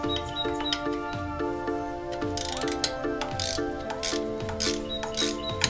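A ratchet clicks in rapid rhythmic bursts while bolts are tightened evenly on a Dana 30 free spin kit on a 1990 Jeep Wrangler YJ, close and steady with brief metallic clanks.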